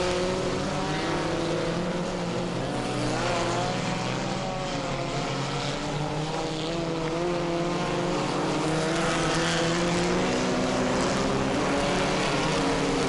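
A midget race car runs laps on an oval race track, its engine droning loud and continuous throughout with a steady high-revving whine and no break.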